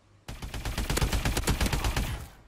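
AE4 energy weapon firing in Call of Duty: Advanced Warfare, a sustained loud burst of rapid repeated shots lasting about two seconds after a brief quiet start, with no voices.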